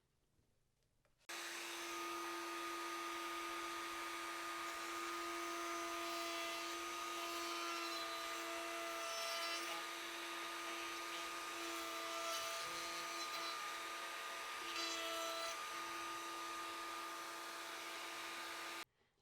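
A wood router cutting stock in a homemade clamp jig with a fence gives a loud, steady high-pitched whine. It starts abruptly, runs unbroken for about seventeen seconds, then cuts off.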